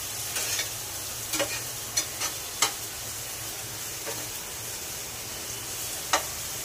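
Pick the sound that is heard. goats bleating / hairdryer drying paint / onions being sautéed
onions being sautéed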